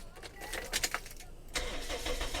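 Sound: car engine starting

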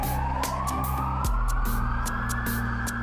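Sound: fire truck siren

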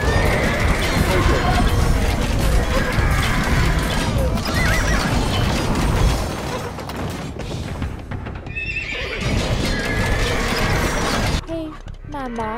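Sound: horse neighing in Age of Empires II video game

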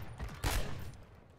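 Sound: gunfire in a video game

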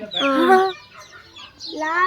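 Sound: rooster/hen clucking

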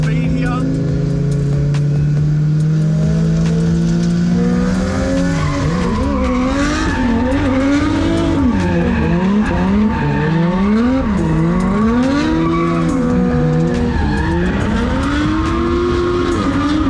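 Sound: drift cars in tandem, tires squealing

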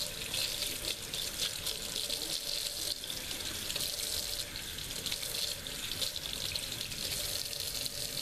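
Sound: tap water rinsing makeup brushes

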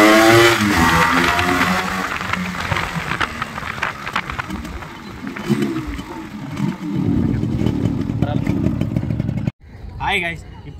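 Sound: Yamaha RX 135 two-stroke motorcycle engine running

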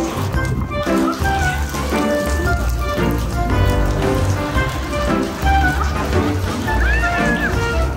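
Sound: rain falling

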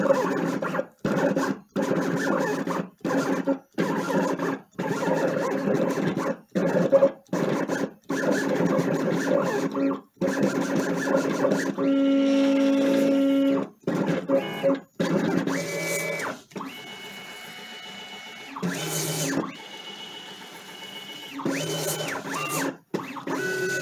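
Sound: vinyl cutting plotter cutting weed lines

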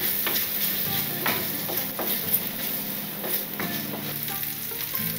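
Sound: quick stir-frying in a pan

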